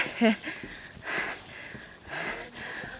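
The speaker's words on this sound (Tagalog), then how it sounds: "Sobrang hingal." Heavy, labored breathing after climbing stairs on the way to a glass bottom bridge: several loud, rhythmic breaths in and out, close to the microphone, with no talk over them.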